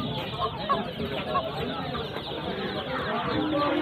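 Domestic chickens and roosters cluck among other poultry at a busy village livestock market, with a steady crowd murmur and people talking nearby.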